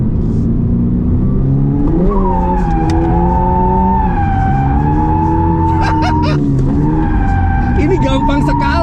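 A stock 2024 Subaru BRZ on standard tires, suspension and engine drifts, its engine droning and shifting pitch while tires squeal loudly in sustained bursts, with someone talking over the noise.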